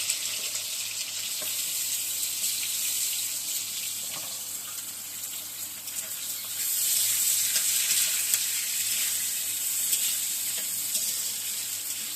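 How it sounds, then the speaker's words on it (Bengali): Potato and eggplant pieces frying in hot oil in a wok, giving a continuous close sizzle that swells louder partway through, with light crackles and no voices. "এর মধ্যে একটু তেল দিয়ে নিচ্ছি এবার আলু বেগুনটা ভেজে নেবো"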